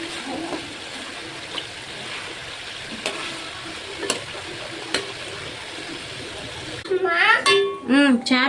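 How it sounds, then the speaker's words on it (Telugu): Fish pieces for chapala pulusu frying in a pan, a steady low sizzle with a few light clicks as a ladle stirs them gently, before a voice speaks near the end. "మరీ ఎక్కువగా కదపకుండా గరిటెతో చిన్న చిన్నగా కదుపుకుంటూ అయితే ఒక 2 నుంచి 3 నిమిషాలు అయితే ఫ్రై చేసుకుంటే"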